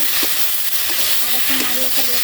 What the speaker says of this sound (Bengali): আর একটু নাড়িয়ে কষিয়ে নিব এটাকে